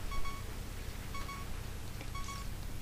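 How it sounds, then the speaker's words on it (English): A repeating low-health warning beep from Zelda: Ocarina of Time sounds faintly about once a second over a steady noisy background of game audio. "Sorry about the beeping."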